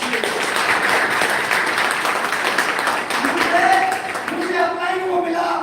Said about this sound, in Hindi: मैं चाहूंगा इनके जोरदार तालियां दीजिए।